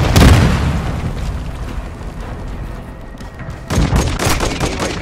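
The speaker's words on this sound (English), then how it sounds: "Hostile cruise missile incoming." In Call of Duty: Modern Warfare II, a cruise missile strike lands with a loud opening boom and a rumbling aftermath, then a second burst of blasts and gunfire follows near the end.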